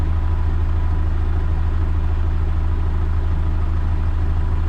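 A YuMZ-6 tractor engine idles at night, giving a loud, steady low rumble with a fast, even chug that never changes.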